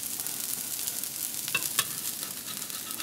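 Dosa batter frying on a hot griddle, a steady broadband sizzle with a few brief scraping clicks from stirring or turning, close and continuous with no talk.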